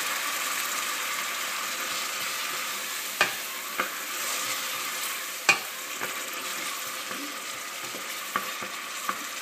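Tomato hits a hot pan of oil while making lentils, giving a steady broadband sizzle throughout with a few sharp clicks and scrapes of stirring; no talking.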